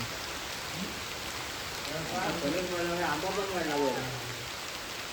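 Heavy rain falls in a Konkan village, a constant broad hiss of drops on surfaces, while someone speaks over it in the middle of the stretch.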